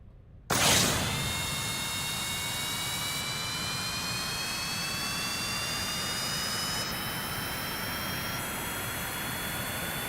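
Jet engine thrust roaring in the game Kerbal Space Program, a steady loud whine with rising tonal pitch that kicks in abruptly after a brief silence and holds at full power throughout.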